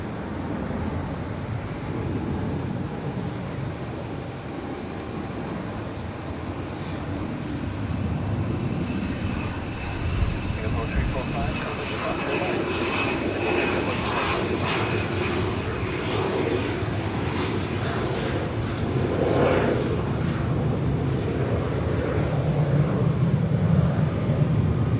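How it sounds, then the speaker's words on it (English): A jet airliner landing on runway 14 at Zurich airport, a steady loud engine roar with a whining high tone that swells and rumbles as the plane touches down and rolls past, continuous with no voices. "we will see it landing from here on the runway 14 like the others."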